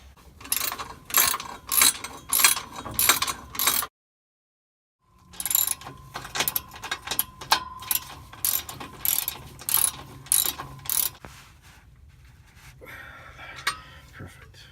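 Rapid ratcheting clicks in bursts as bolts are tightened on a CorkSport axle-back exhaust on a Mazda 6, close and fairly quiet, with a short pause midway and softer metallic handling toward the end.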